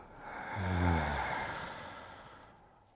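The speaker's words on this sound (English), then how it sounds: "Open the mouth and exhale." One long, breathy exhale through an open mouth during a yoga session swells to a soft peak and fades out slowly, close up and alone.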